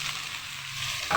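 Pork meat sautéing in a pan for adobong takway gives a steady soft sizzle, close and even, with no talk over it.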